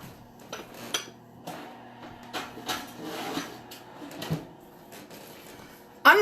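Kitchen clatter as a dish of smoky baked sourdough macaroni and cheese goes into a home oven: scattered light clinks and knocks, then a sharper metallic bang at the end.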